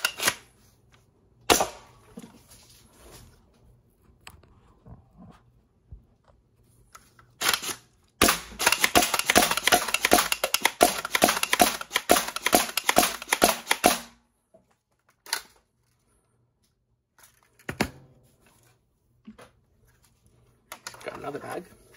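A foam-dart Alchemist blaster fires in sharp, close snapping bursts, with a sustained rapid string of shots in the middle and scattered single pops before and after, separated by near-silent pauses.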